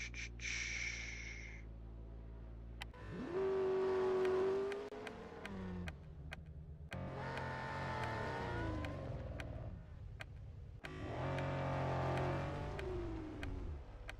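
A Lamborghini Sian FKP 37 engine in the Real Racing 3 game revs hard in repeated bursts, each climbing in pitch and then cutting off, with short quiet gaps between.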